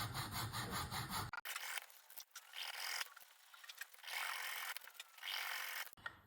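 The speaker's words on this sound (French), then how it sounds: "Puis une deuxième phase pour le sciage des angles proches en plaçant le morceau de bois verticalement." A hand saw cuts the corners of a block of wood held upright, rasping in steady back-and-forth strokes, close and fairly loud, with no voices.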